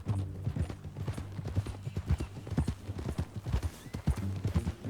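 Steady clip-clop of horse hooves walking at an even pace in the video game Red Dead Redemption 2, close and clear, with faint talk in the background.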